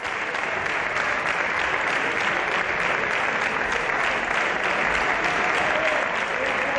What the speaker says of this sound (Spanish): hubo que aguantar otra ración de aplausos de la bancada socialista Pedro Sánchez